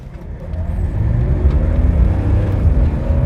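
A 1972 Mercedes-Benz 280CE pulls away hard from a standstill, its engine a steady, loud low rumble that builds without break, heard from inside the car, with no voices.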